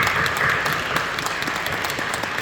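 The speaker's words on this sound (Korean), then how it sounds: "박수로 격려해 주십시오." Congregation in a church breaks into sustained applause at a Friday night prayer service, a dense, steady wash of many hands clapping throughout with no voices standing out.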